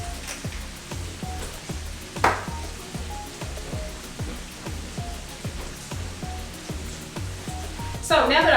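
Bacon sizzles and crackles steadily in a skillet on a home stovetop for a breakfast skillet dish, with a dense hiss throughout, a sharp utensil clatter partway through and a louder burst of scraping near the end.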